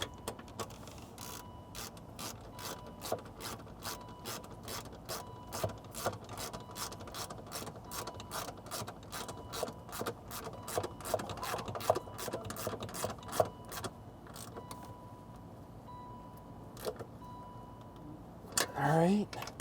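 A ratchet clicks in long rapid bursts while tightening the top mount of a car's rear shock absorber during a suspension upgrade, the steady pawl rattle close and loud with brief pauses between runs.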